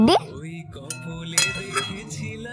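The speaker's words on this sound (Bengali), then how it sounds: "মা ঢাকাটা সরিয়ে নিচ্ছে" Metal pot lid lifted off a pan of Bengali-style tank goby fish curry, a couple of sharp clinks and clatters of metal, close and brief, with someone talking throughout.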